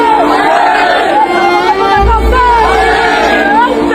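Shibir students chant slogans inside a mosque, many voices rising and falling together in a loud, rhythmic chorus, with a deep thump partway through and a hall-like echo.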